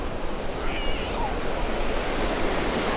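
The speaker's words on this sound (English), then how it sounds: "look at these folks out here just enjoying the waves" Ocean waves break and wash up on Caloundra beach on the Sunshine Coast, a steady, full roar of surf close by with no clear gaps between the breakers.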